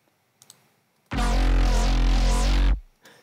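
A crazy, growly wavetable synth patch run through the Shaper Table plugin sounds as one loud, dense sustained tone of about a second and a half, with sweeping harmonic motion, starting abruptly after a couple of faint clicks.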